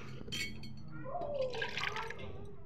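Cooked lentils still in their water are poured from a pressure cooker into a pan for Tamil paruppu payasam, making a soft, close splashing and sloshing that builds over a couple of seconds in a quiet kitchen.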